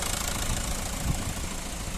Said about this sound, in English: Clean and tidy engine bay, recently serviced, engine sound nice and smooth